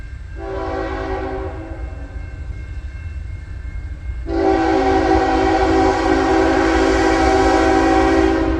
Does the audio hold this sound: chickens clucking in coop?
no